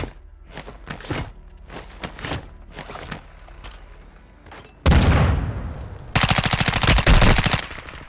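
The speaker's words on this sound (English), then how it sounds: "I'm taking effective fire!" Enemy gunfire in Warzone starts as scattered sharp shots with footstep-like thuds, then rises into loud close bursts and a rapid machine-gun stream near the end.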